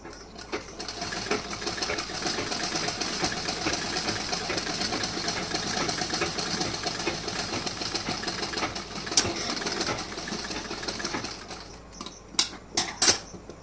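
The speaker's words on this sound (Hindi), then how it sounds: "अब इस साइड का यहाँ से हमें स्टिचिंग करना है" A sewing machine runs continuously while stitching a blouse, a fast steady mechanical whir close by, ending with a few sharp clicks and knocks as it stops.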